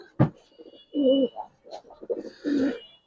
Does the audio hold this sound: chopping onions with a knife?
no